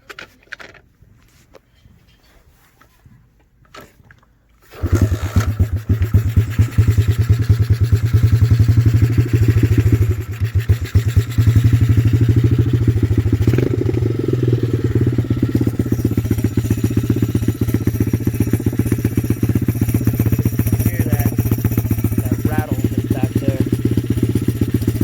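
A Chinese 125cc Honda-clone dirt bike, a Coolster or TaoTao, starts after a few seconds of quiet and then runs steadily close by, a loud low continuous engine rumble with clatter.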